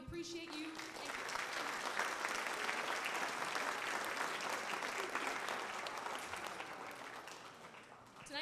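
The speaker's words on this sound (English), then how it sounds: "So give yourselves a round of applause." Sustained audience applause at a school choral concert fills the hall, a dense steady wash of many hands clapping that holds for several seconds before tapering slightly near the end.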